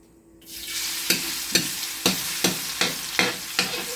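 Garlic dropped into hot oil for pork pata kaldereta sizzles loudly right away, and a spatula stirs it in regular strokes about twice a second, each one scraping and briefly intensifying the close, continuous frying hiss.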